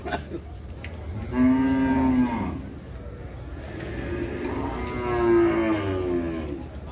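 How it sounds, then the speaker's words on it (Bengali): Cattle at a cattle market give two long, deep moos, one after the other, close and loud over a low murmur of background noise. "দেখেন আরো একটা গরু আছে,"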